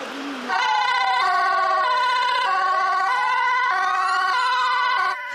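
Fire engine sirens in Dnipro, Ukraine, wail loudly and continuously, several tones rising and falling together, holding steady before cutting off abruptly.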